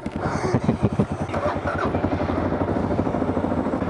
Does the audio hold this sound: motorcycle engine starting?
yes